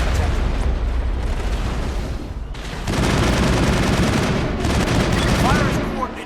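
Dense, continuous sci-fi gunfire rattles from a Mass Effect squad firefight against Geth forces, rapid bursts layered with booms and a brief lull near the middle before the barrage swells louder again, with faint voices mixed in.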